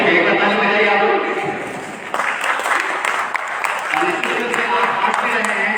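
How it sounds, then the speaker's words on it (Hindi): Audience applause at a Rajyog youth camp gathering, sustained dense clapping from many hands that fades slightly midway and then continues steadily, loud and close throughout. "एक बार ताली बजाइए आप लोग"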